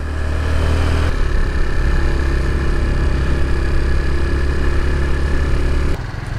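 A motorbike engine climbs a mountain road toward Ladakh in a lowered gear, a loud, steady close-up drone with constant rumble and wind noise, easing slightly as the pitch shifts near the end.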